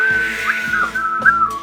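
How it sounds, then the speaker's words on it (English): A person whistles a short, lilting tune of a few sliding notes, clear and close with no talk over it. "I'm talking about whistling."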